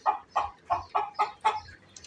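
A Sussex hen in a coop clucks six times in a quick, even rhythm, close and clear with nothing else behind it.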